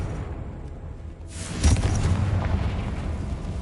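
A Confringo spell blast in Hogwarts Legacy erupts as a sudden broad whoosh into a deep rumbling boom, which holds loud and low over steady game ambience.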